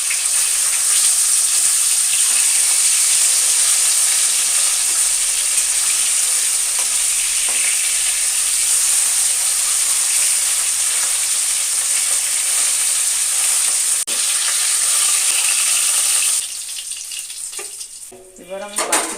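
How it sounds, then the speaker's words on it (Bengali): Flipped tilapia fish pieces frying in hot oil, a loud continuous close sizzle with occasional crackles, easing into quieter scraping and clinks of a utensil near the end. "একটু ভাজা হয়ে গেছে, এবার আমি মাছগুলোকে উল্টে দেব।"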